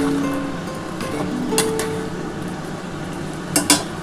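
A spoon scrapes and clinks in a pot of street-style ghugni, with soft stirring and a couple of sharper metallic knocks near the end, close and clear.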